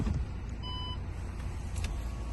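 A Volkswagen Tiguan's parking assist gives a short electronic beep over a quiet, steady hum inside the car.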